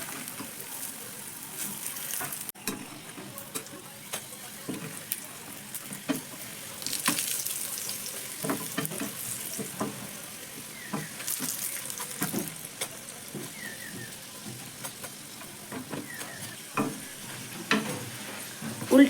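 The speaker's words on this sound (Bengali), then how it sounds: "আমি কিন্তু সবগুলোই ওই তেলের মধ্যেই ভেজে নেব" Wheat-flour breakfast snacks fry in oil, making a quiet, uneven sizzle, broken by frequent scraping and clatter as they are stirred and turned in the pan.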